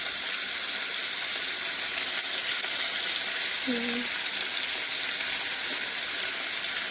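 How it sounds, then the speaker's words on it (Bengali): Fish seasoned with salt and turmeric fries in a pan, giving off an even, continuous sizzle that stays level throughout, with a brief faint tonal sound near the middle. "লাল লাল করে ভালো করে ভেজে নেব।"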